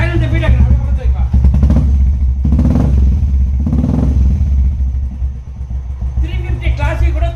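A 2014 Electra motorcycle engine runs with a steady, close low throb and clattering mechanical rhythm, with people talking over it throughout.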